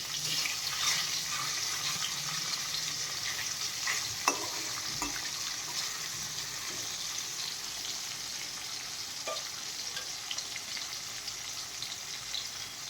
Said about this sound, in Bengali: আমি হালকা করে করে প্রত্যেকটা মাছ ভেজে নেব